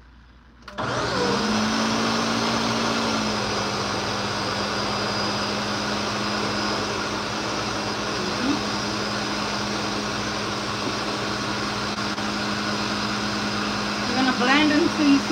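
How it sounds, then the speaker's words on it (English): A kitchen blender switches on abruptly and runs loud and steady for about fourteen seconds, its whirring motor whine holding constant with a slight surge near the end, while batter for chocoflan and keto cupcakes is being made. "I'm about to turn on the blender,"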